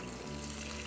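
Water pours continuously into large fall flower baskets during watering, a close, dense, steady splashing rush that holds at an even level through the whole short moment.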